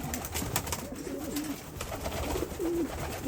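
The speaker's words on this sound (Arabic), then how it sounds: "بس الحمام العادي، بس الابيض هذا البلجيكيات هذه لا" Several pigeons, including white Belgian birds, cooing softly and repeatedly in a dove loft, close by over a steady background hiss.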